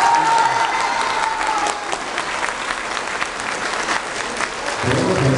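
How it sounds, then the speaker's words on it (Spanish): Crowd applause at the San Miguel patron saint festival in Xico, dense clapping from a large gathering that holds steady for several seconds before thinning. "Que se escuche ese aplauso."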